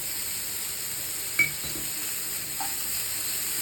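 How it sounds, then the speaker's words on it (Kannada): Garlic sizzles steadily in a hot pan while making an omelette, a constant frying hiss with a couple of brief utensil clinks against the pan partway through. "ಚೆನ್ನಾಗಿ ಫ್ರೈ ಮಾಡ್ಕೊಳ್ಳಿ. ಇದು ಲೈಟಾಗಿ ಗೋಲ್ಡನ್ ಬ್ರೌನ್ ಆಗಿದೆ."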